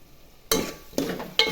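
Masala sizzles in a hot pan for a chana dal and ridge gourd curry, broken by three quick, close stirring scrapes, each followed by a burst of frying.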